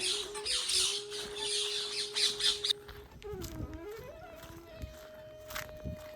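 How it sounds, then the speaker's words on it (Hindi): Parrots squawking near a river, with loud harsh calls at first, then fainter chirps as footsteps and a voice come in over the scene. "मेरे ख्याल से ये तोते हैं।"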